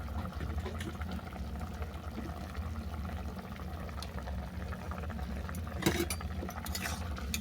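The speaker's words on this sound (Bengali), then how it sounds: "ঝোল ফুটে যাওয়ার পর তুলে দিলাম ভেজে রাখা বড়া আর ভেজে রাখা চিংড়ি মাছ।" Curry broth simmers in a pot with fried pumpkin-leaf fritters and shrimp, giving a steady, even bubbling hiss throughout, with a brief clatter near the end and no talking.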